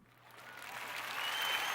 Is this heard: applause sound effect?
yes